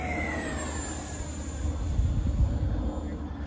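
RC model jet flying overhead at a hobby airfield: a steady, loud turbine whine with a falling high-pitched tone as it passes, rising slightly in roar midway, with no talk.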